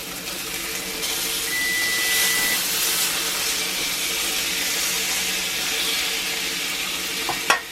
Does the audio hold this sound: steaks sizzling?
yes